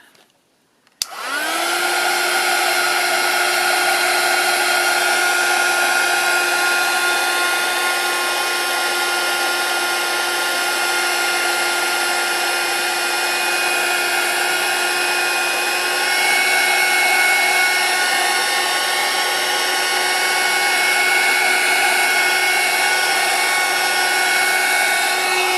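A handheld heat tool drying paint and ink on paper switches on with a click, then blows a loud, steady whine and rush for over twenty seconds without pause, close by and alone.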